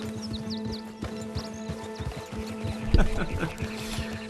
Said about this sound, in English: Haven't mastered horse riding just yet.